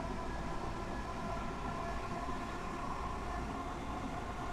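A Class 465 electric train runs in Train Sim World 3 on the Southeastern High Speed Dartford extension, giving a steady, continuous rumble with a faint motor whine that stays close and level throughout, with no talk.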